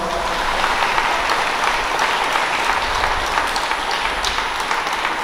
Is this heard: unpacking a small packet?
no